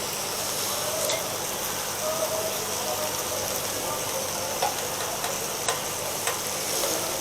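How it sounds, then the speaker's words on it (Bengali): Seasoned chicken fries steadily in a pan, giving a dense, continuous sizzle with occasional faint pops and stirring scrapes close by. "এখন এই পিঠকে আমরা ভেজে নেব আবারও 2 থেকে 3 মিনিটের জন্য"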